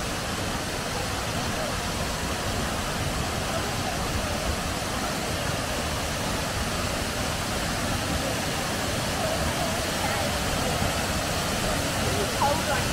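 Millaa Millaa waterfall pours in a steady, dense broadband roar, loud and unbroken throughout, with voices faintly under the rushing water.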